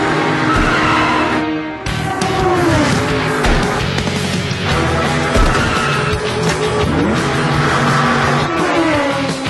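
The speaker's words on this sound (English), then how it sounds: "That car's coming straight for you!" A race car in an animated racing series speeds toward someone, a loud continuous engine roar with screeching tires and shifting pitch, dense and unbroken throughout.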